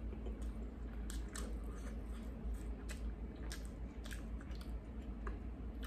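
Someone eats McDonald's spicy chicken nuggets close to the mic with quiet, moist chewing and a few crisp bites over a low background hum, and no one speaks.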